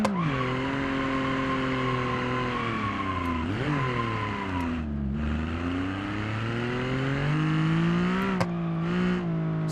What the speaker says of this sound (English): Let's see how good of a burnout it can do, though.